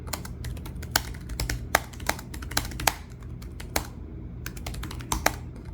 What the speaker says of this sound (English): Speaking of the keyboard, it has that fair clicky sound